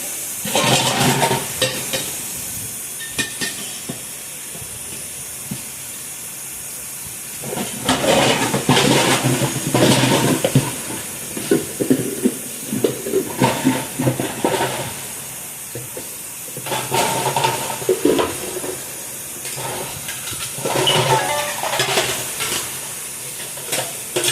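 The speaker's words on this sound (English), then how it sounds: "Fry that fish, you let it sit there and let it brown a little before you turn it over so it won't tear up" Catfish frying in a pan gives a continuous loud hiss and sizzle, close by, with a few louder bursts of crackle and stirring now and then, and no talking.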